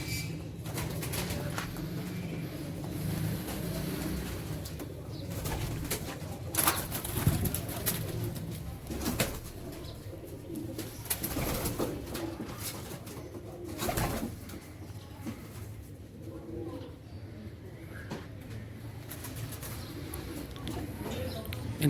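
Pigeons coo in cages at a home loft, a soft, low murmur running throughout with scattered rustles and knocks, under someone talking.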